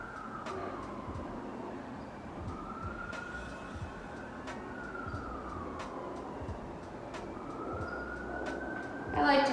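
Emergency sirens wail outside, rising and falling in long slow sweeps at a moderate distance, heard indoors over a low hum with a brief louder burst at the end.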